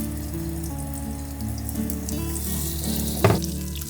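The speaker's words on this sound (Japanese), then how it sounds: "後でキッチンペーパーで油を吸い取りきれるようにごく少ない量の油で揚げます。" Wild mountain vegetables fry in a small amount of oil in a tilted pan, giving a steady close crackling sizzle with a sharper pop near the end.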